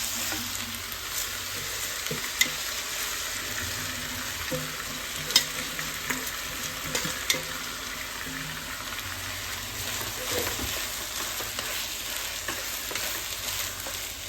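Rice sizzles steadily in a hot pan as it fries for chicken biryani, with occasional scrapes and taps of a spoon stirring it, close by and continuous throughout.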